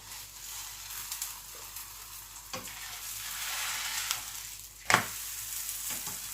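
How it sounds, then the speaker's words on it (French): Msemmen dough frying in a pan, a steady broadband sizzle throughout with a few scraping clicks as it is flipped, one sharp louder knock near the end. "on retourne et on retourne jusqu'à ce que ça soit bien doré"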